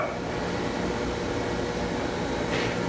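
The spindle of a Mitsui hydraulic surface grinder runs with a steady, quiet hum and a soft broadband whir. It holds at an even level with a faint tonal line and no voices.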